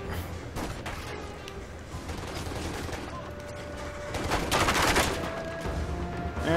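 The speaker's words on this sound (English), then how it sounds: "And they're shooting at me." Enemy gunfire in the action video game Stranglehold, dense overlapping shots and bursts with crashing impacts that swell louder toward the end over busy game noise.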